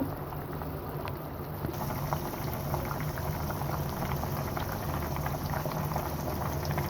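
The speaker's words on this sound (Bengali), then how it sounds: "এই তো ঝোলটা ফুটে আসছে" Fish curry broth with fried koi fish bubbles in a covered pan, a steady close simmering burble of small pops and gurgles that runs on evenly with no talking.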